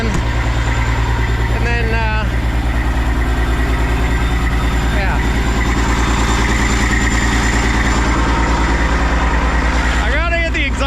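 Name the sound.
Kenworth cabover truck engine idling while warming up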